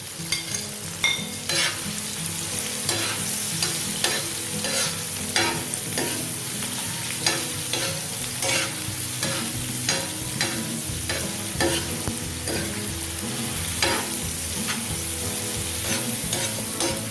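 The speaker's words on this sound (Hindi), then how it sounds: "इसको मैं थोड़ा सा गोल्डन फ्राई करूँगी, कच्चा पक्का सा" Chopped onions fry in about three tablespoons of oil on a tawa for chicken liver katakat, a loud steady sizzle under rapid, rhythmic metal scraping and clacking throughout, with no talk.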